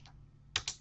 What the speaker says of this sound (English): Now all you got to do is type John